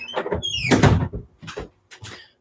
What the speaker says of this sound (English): I'm just gonna close my door